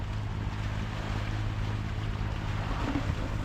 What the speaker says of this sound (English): I feel the wind starting to pick up behind me.